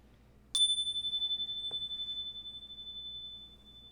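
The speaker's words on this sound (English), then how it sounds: "And as we hear that chime, hold for that moment of silence afterwards." A single bright meditation chime is struck once and rings out clearly, its pure tone slowly pulsing and fading over several seconds against near silence, with a faint soft tap partway through.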